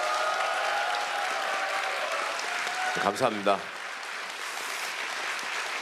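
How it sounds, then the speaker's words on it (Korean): An audience at a book concert in Jeonju applauds steadily and warmly, and a voice briefly speaks partway through. "저한테 용기를 주는 박수 한번 부탁드리겠습니다."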